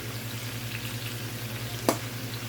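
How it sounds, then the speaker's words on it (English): Mixed vegetables sauté in olive oil in a pan, seasoned with garlic powder, pepper and Italian seasoning, giving a steady close sizzle over a low rhythmic hum, with one brief sharp clatter partway through. "I'm just going to stir fry that"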